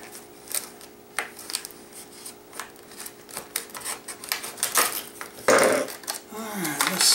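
A clip-on 8X telephoto lens package for smartphones and tablets is opened with a knife: a string of close, sharp plastic and cardboard clicks, snaps and rustles, with a short voice near the end.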